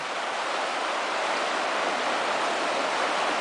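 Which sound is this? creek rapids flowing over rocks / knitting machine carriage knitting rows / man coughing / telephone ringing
creek rapids flowing over rocks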